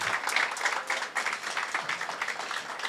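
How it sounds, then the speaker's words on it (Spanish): Church congregation clapping together: a dense, steady round of applause at moderate distance, sustained throughout with no break. "Démosle un aplauso al Señor"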